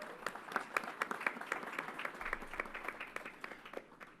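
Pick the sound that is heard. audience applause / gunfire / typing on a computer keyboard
audience applause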